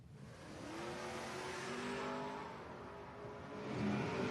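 Drag race cars, a '64 Polaris and a 2000 Camaro, roar down the strip at an event, a distant sustained engine wail that swells and fades, with a rising surge near the end.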